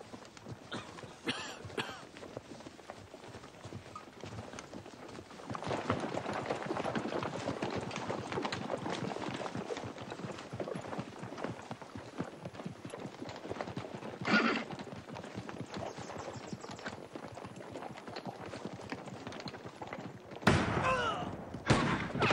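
A rush of hooves clattering and pounding as several horses move together, with a neigh and heavy thumps near the end over continuous noise.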